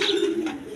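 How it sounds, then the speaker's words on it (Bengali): A pair of short-faced fancy pigeons with red eyes and yellow coloring coo steadily nearby, a low continuous cooing with a faint higher chirp at the start. "দর্শক এখানে এক পেয়ার শর্ট পিস কবুতর দেখেন"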